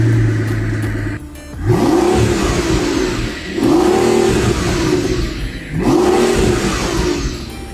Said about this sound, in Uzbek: vyxlop sistemasini bitta eshitib ko'ramiz